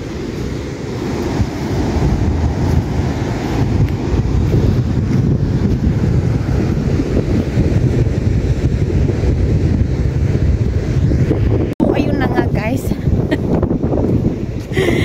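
Loud, steady wind buffeting the microphone over a continuous roar of sea waves on a beach at dusk, with no pauses throughout.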